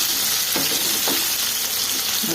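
Onions fry in oil for sambar with a loud, close, constant crackling sizzle and a few brief stirring scrapes.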